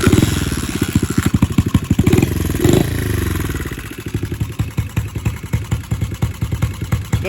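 A Baja 70cc dirt bike engine fires up and runs close and loud, a rapid chugging single-cylinder putter with a brief rev in the middle before settling into a steady, slightly uneven idle.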